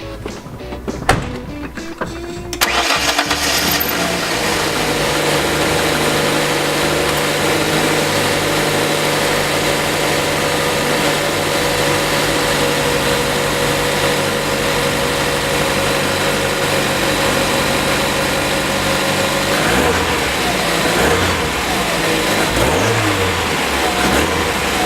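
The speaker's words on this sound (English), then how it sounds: "The car starts up wonderfully, runs great, and I'm finally done with it." A 1992 Ford Escort GT engine cranking and firing up after timing belt work, then settling into a steady, loud, close idle with a constant mid-pitched hum and a slight revving change near the end, with no talk.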